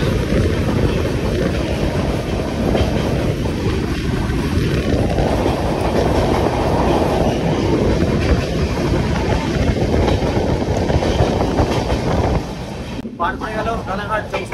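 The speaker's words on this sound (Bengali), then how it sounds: "আমাদের এই সাইরাং কলকাতা এক্সপ্রেস এখন রানাঘাট থ্রু পাস হয়ে যাবে।" The Sairang–Kolkata Express, on its inaugural special run, passes through Ranaghat Junction without stopping. A loud, continuous rumble and rattle of rolling carriages is heard close up with wind buffeting, easing slightly near the end.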